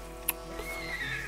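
A horse in the video game Red Dead Redemption 2 lets out a neighing whinny over a low steady background hum, with a sharp click near the start and the drawn-out call rising and wavering toward the end.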